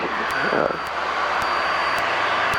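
A Cessna 172's piston engine drones steadily inside the cabin as the plane descends toward a landing. The hum is loud, even and continuous, with faint ticking clicks.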